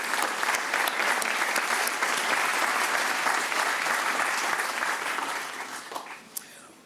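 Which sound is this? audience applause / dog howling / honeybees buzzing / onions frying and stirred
audience applause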